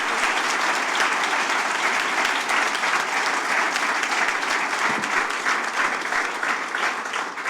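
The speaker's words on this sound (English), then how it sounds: "Let's give a huge round of applause for everybody who put in their stone." Sustained applause from an audience at a grand opening fills the space, dense and even clapping that carries on without a break for several seconds.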